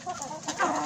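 A hen with a battered comb, one of a backyard flock, gives a brief close burst of clucking.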